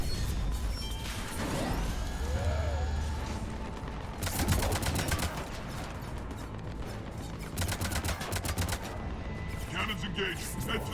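In the Mass Effect video game, cannons fire in loud bursts of rapid, rattling gunfire, with two dense volleys separated by booming impacts and whooshes over steady combat noise.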